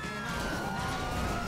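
Police car siren in the GTA Online video game wails steadily at a sliding pitch, loud and continuous over engine and traffic noise.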